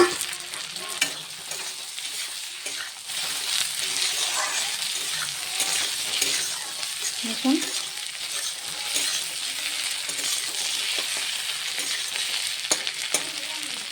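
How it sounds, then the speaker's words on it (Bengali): Boiled, peeled potatoes fry with onions in a pan, giving a soft steady sizzle with repeated stirring scrapes and clinks throughout; a brief spoken word comes near the start. "একটু ভাজা ভাজা হবে আলুগুলো"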